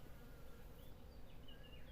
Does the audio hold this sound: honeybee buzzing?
yes